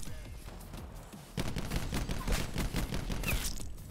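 Auger DMR marksman rifle firing in Black Ops 4, a buffed two-shot-kill weapon: a quiet background hum, then a run of fairly rapid sharp shots and impacts in a busy multiplayer match, moderately loud and steady.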